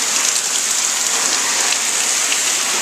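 Water sprayed onto a backpack to simulate an intense rain shower, a steady dense hiss of droplets pattering on fabric, loud and continuous throughout with no voices.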